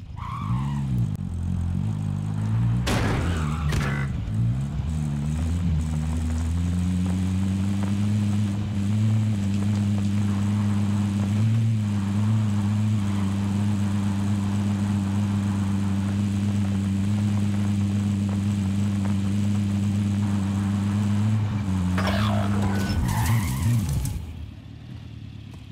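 A car driving in Call of Duty: Warzone, a sustained droning engine hum holding a steady pitch with slight wavers, loud and close, bracketed by brief bursts of other game noise.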